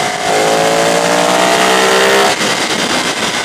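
A Ducati 848 Streetfighter's V-twin engine revs hard and close, a loud rising roar that climbs steadily for about two seconds, then drops back as the throttle closes, with no talk.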